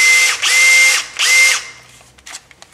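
A Makita DDF083 brushless cordless drill runs in two short, high-pitched whirring bursts with a brief pause between them, followed by quieter clicks and handling noise.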